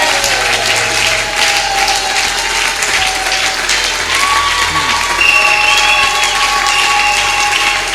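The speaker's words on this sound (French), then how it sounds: "Est-ce que nous pouvons encore acclamer un peu fort?" A church congregation claps and cheers in a dense, continuous wash of applause with some voices shouting through it, loud and sustained throughout.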